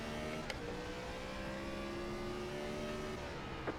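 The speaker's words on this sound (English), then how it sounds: "Trying to rush my downshift there" Gen 4 race car engine at Martinsville in a racing video game, a steady loud drone that shifts pitch as the driver rushes a downshift, with faint clicks.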